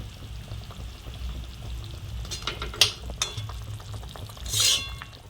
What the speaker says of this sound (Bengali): তো আমি এবার মাছগুলো অ্যাড করে নিচ্ছি তো ঝোলের মধ্যে